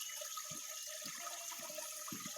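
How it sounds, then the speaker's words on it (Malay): A small river tributary on rural land flows with a continuous soft rushing and trickling of water, quiet and steady, with faint low thumps; no one speaks. "inilah dia anak sungai"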